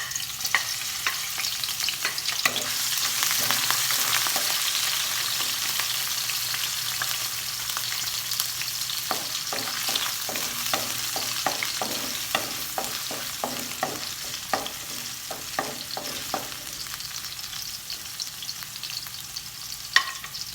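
Ginger, garlic and spring onion fry in hot oil in a wok, a steady sizzle with a run of quick clattering stirs and scrapes through the middle, close and moderately loud.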